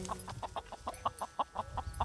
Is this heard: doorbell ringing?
no